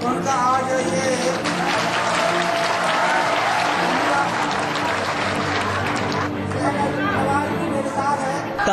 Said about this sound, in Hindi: तालियों की गड़गड़ाहट,